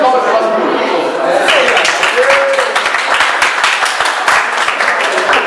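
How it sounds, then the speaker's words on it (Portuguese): A crowd applauds the audience at a blog awards event, loud, close clapping that builds and then continues steadily, with a voice talking and whooping over the start. "Uma salva de palmas pro nosso"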